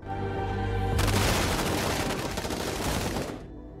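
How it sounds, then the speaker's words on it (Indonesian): A loud, sustained burst of rapid gunfire rattles on for nearly three seconds over a low rumble, then cuts off abruptly. "hingga ia langsung diberondong tembakan oleh mereka"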